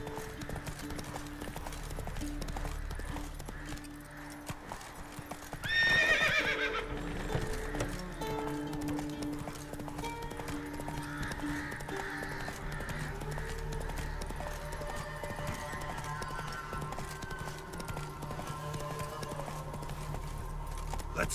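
Roach the horse gallops steadily in The Witcher 3, with rhythmic hoofbeats close by throughout, a short whinny early on and a low wind-like bed underneath.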